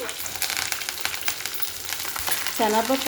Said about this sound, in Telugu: ఆవాలు చిట్పట్లాడాక కరివేపాకు, శనగపప్పు